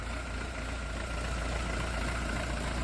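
A Scout 504 RX 50 hp mini tractor idles with a steady, even engine hum. It is close and constant, with no speech.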